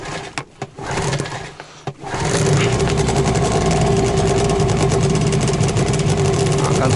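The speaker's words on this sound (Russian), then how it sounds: "Моторчик-то наш." A small motor is cranked after a few short clicks and clatters, catches at once, and settles into a steady, loud, even idle that runs to the end.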